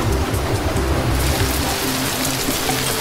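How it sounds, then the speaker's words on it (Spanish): Steady heavy rain pours over mountains in a valley, a dense continuous hiss with low rumbling underneath, loud and close throughout. "La lluvia cayó en las montañas del valle."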